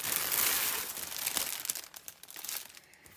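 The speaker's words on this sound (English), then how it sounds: "Now I'm going to crinkle for a minute, so mute your phones." Plastic packaging crinkles loudly and continuously while a diamond painting storage case is unboxed, then thins into sparser crackles and rustles toward the end.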